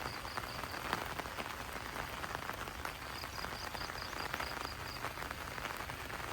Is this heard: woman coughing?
no